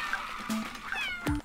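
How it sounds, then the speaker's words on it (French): A cat meows a few times in short, close cries, with faint trickling water in the background. "j'entends des bruits de chat, des miaulements"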